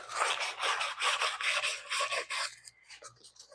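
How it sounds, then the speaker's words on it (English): Wet sanding of the paint on a 1966 Monaco with 600 grit sandpaper gives about eight quick, close back-and-forth rasping strokes, then fainter scraping as the rubbing slows to a stop. "What I've got here is a little 600 grit sandpaper. Wet sand and brake clean."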